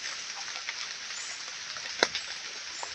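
Rain falls steadily while lanzones trees are being planted outdoors, a dense even hiss with a few louder nearby drops.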